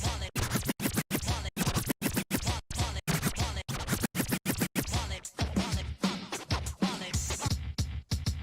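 Rapid, tightly cut turntable scratching from a DJ runs almost continuously, with brief sharp cutoffs between strokes and a fairly loud, dense texture throughout.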